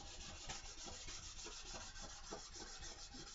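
Sandpaper rubbed across wood during furniture restoration, a soft, close scratching that repeats in steady back-and-forth strokes, with no talk.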